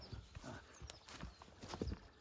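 Mares with a foal at a herdsman's pasture, Ukrainian draft horses: faint hoof clip-clops and shuffling movement at a distance, with a possible soft whinny amid low background noise.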